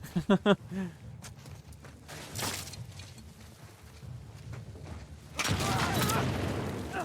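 A trap mine detonates in The Last of Us Part II, a loud blast with a burst of crackling debris about midway, followed by a second heavy roar of noise, after some short thumps and scuffling game sounds.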